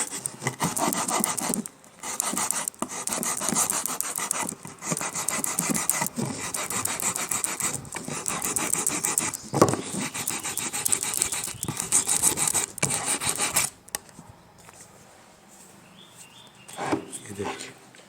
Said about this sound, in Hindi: हम सैंड पेपर से घिसेंगे तो फिनिशिंग प्रॉपर आएगी।